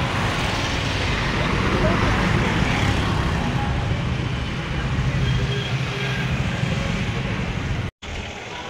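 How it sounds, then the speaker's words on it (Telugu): Steady, dense road traffic roars across Prakasam Barrage in Vijayawada, a continuous broadband rush of passing cars, buses and trucks close by, with faint talk mixed into the noise. "ఒకటే ట్రాఫిక్ కొట్టుకోపోతారు."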